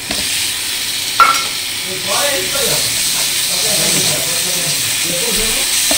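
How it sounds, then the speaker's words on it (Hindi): Tomatoes tipped into a hot pan of frying vegetables, a sharp hiss and sizzle breaking out after a clatter and settling into steady crackling frying, close by with no talk. "अभी इसमें हम डालेंगे टमाटर"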